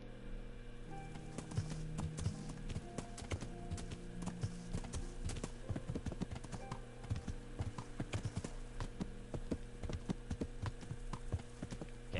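Horse hooves clip-clop along a road in Kingdom Come: Deliverance, a steady rhythmic stream of clopping with quiet game ambience beneath, moderately loud and continuous throughout.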